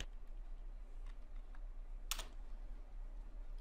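Typing on a computer keyboard, a few faint scattered key clicks with one brief louder burst, heard alone over quiet room hum.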